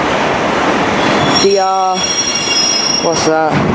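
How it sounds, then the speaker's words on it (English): A track treatment train passes through a station, its wheels squealing in sustained tonal screeches with rumbling rail noise throughout; a voice speaks briefly. "Here you go, track treatment train."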